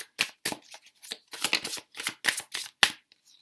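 Tarot cards are riffled and shuffled in a quick, uneven rhythm of crisp papery bursts, close and fairly loud, with no talking.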